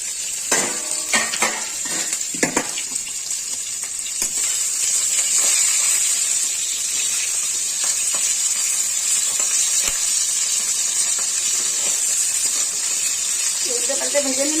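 Oil frying muri ghonto ingredients in a pan on a gas stove, a steady sizzling hiss throughout, with a few scrapes and knocks of a stirring spoon near the start.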